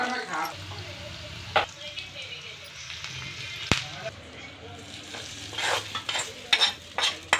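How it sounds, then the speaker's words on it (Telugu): Cumin, mustard seeds and green chillies sizzle in hot oil as tempering for pulihora, with intermittent stirring clatter and a few louder spoon knocks against the pan. "పులిహోర కోసం తాలింపు పెడుతున్నాం"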